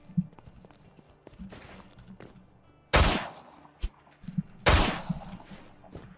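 Two loud, sharp gunshots ring out a couple of seconds apart in the survival shooter Miscreated, among quieter footsteps and small clicks.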